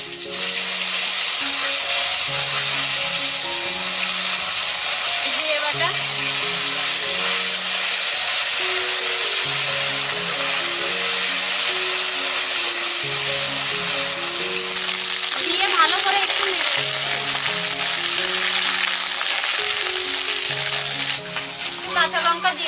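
Ginger paste fries in a pan while a duck-egg curry with coconut milk is being made: a strong, continuous sizzle with occasional stirring scrapes, heard under gentle background music.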